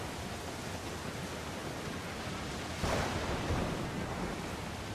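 A waterspout at sea in Assassin's Creed IV Black Flag roars as a steady, dense wash of wind and surf that swells briefly louder midway.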